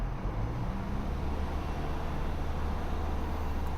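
A car engine held at about 2000 rpm drones steadily at close range, a constant low rumble with broadband noise and no clear change in pitch.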